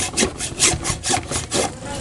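Rhythmic back-and-forth strokes of a hand saw cutting through the copper wire coil of an electric fan motor, about five close, loud rasping passes in steady rhythm with no talking.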